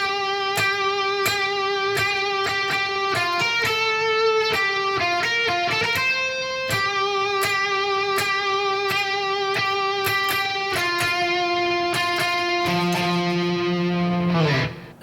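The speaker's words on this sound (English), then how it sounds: "So the whole outro solo should sound something like this." Distorted electric guitar in Drop D tuning plays the outro solo of a song. Picked notes and octave lines repeat in a steady rhythm, loud and close, then the last note slides down and fades. No talking.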